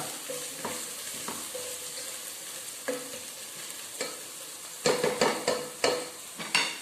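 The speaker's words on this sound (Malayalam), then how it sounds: "രണ്ട് മിനിറ്റ് ഒന്ന് വഴറ്റിയെടുക്കാം." Chopped onions sauté in a pan, with a soft continuous sizzle broken by scraping stir strokes that grow more frequent and louder toward the end, close up and with no voices.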